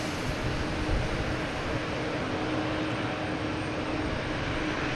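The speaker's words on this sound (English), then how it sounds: "A340 heading back to Munich." A Lufthansa Airbus A340 airliner departs Boston Logan, its engines giving a steady, loud, broad roar that holds level throughout with no talk.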